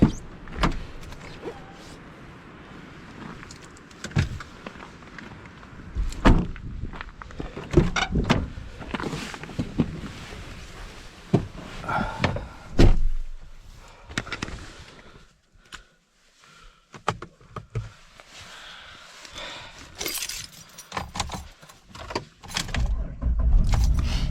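Someone gets into a car on a cold, windy winter day at a trailhead and starts it: door and key clatter, scattered thumps and rustles, then the engine turns over and idles near the end.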